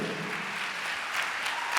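Applause from an audience honoring college scholarship recipients at the 2022 NYCDA scholarship announcement, a steady wash of many hands clapping at moderate loudness throughout.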